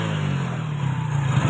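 Motorcycle fitted with a modified air filter idling and revving, a steady close engine drone that swells slightly toward the end, with no talk.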